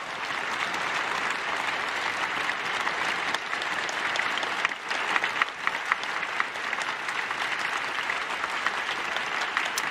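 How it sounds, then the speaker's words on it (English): Sustained applause from a crowd, steady dense clapping throughout, heard from a moderate distance with no voices over it. "That deserves a clap, man."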